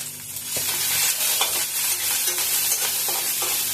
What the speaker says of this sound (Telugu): ఉల్లిపాయలు మనకు కాస్త ఫ్రై అయ్యాక ఇప్పుడు అల్లం వెల్లుల్లి పేస్ట్ వేసుకుందాం